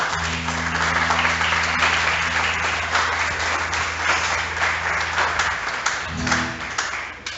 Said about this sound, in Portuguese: Então vamos dar uma salva de palmas para o nosso entendimento?